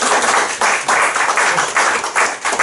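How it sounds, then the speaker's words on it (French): Dense, steady applause from an audience at a club induction ceremony, sustained and fairly loud through the whole stretch with slight surges and dips. "je pense qu'on peut applaudir"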